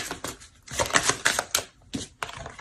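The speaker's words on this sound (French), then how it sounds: "Allez, on va rajouter une carte." A tarot card is drawn from the deck: quick close-up shuffling and flicking of cards, a rapid run of crisp snaps and slides with short pauses between them, and no voice.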